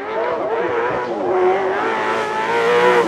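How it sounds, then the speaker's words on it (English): Vauxhall Cavalier Mk1 V8 super saloon race car with a big Chevrolet engine revs hard and steadily, a loud, close engine roar with rising and falling pitch throughout. "Cavalier Mk1 with its big grunty Chevrolet engine."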